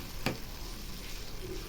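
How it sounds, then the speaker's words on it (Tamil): Onion, tomato and masala spices sautéing in a pan, giving a steady soft sizzle with a brief sharp clink of a utensil early on; no voices. "இப்போ வெங்காயம் தக்காளி வெந்துட்டுருக்கும் போதே மசாலா பொருளெல்லாம் போட்டு நல்லா வதக்கிடலாம்"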